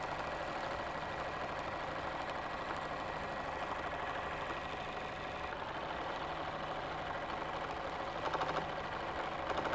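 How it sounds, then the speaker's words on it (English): A mini quilting machine hums steadily while stitching in free motion quilting, a continuous low mechanical whir with a quick repetitive needle rhythm, fairly faint and unbroken, with no talk. "I'm just going to let the machine run in place a couple of stitches before I start moving it"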